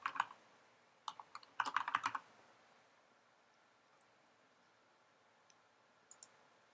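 Computer keyboard typing in short clusters of quick clicky keystrokes, a dense flurry early on followed by quiet and a couple of isolated taps, close and moderately soft with no voice.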